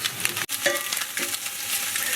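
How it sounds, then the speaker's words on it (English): Garlic fries in a hot pan, crackling and sizzling steadily up close, with a brief stir partway through. "As you can see, everything is sizzling in there."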